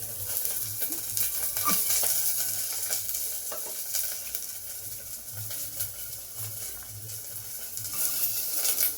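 Beans and carrots sautéed and stirred in a pan, a steady close sizzle with soft scraping and stirring strokes throughout, no voices.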